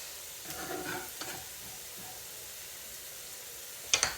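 Minced garlic sizzles softly in a frying pan, a faint, steady hiss with a few brief stirring sounds and a sharper clink near the end.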